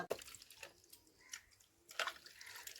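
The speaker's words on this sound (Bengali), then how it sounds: "এই যে দেখুন আমি হাতটা ধুয়ে নিলাম" Hands being rinsed under running water after making homemade neem-leaf soap, with a few short splashing bursts and trickles close by and no talk.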